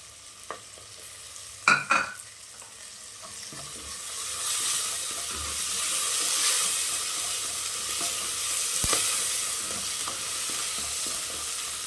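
Ground chili-coriander paste hits a pot of mutton curry and fries, a low, steady sizzle that swells in the middle, with a couple of early clanks from a spoon against the pan.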